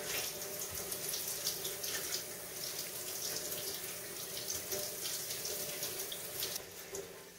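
Tap water running steadily over smoked turkey necks in a sink, a continuous close splashing rush, no talking.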